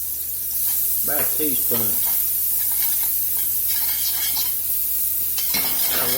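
Diced onion sizzles in a pat of butter in a hot pan as it is stirred, with a steady frying hiss and scraping beneath a brief spoken line from the cook.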